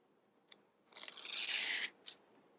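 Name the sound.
peeling backing off appliqué fabric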